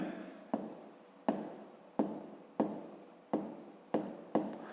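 Handwriting during a fifth-grade math lesson, with a series of regular strokes each starting with a sharp tap and trailing into a scratchy scrawl, about seven in a steady rhythm, close and quiet with no talking.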